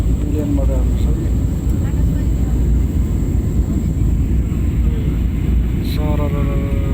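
A steady, even roar fills the cabin of a passenger plane in flight over the hills of Rukum, Nepal, with faint muffled voices beneath the engine drone.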